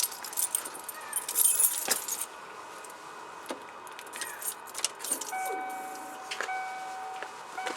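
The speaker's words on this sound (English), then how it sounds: "we've got to put the keys in the ignition so we can have power to the" Keys jangle and clink as they go into the ignition of a 1995 Ford F-150 pickup, with a burst of metallic rattling early on and then a few scattered clicks and light taps close by.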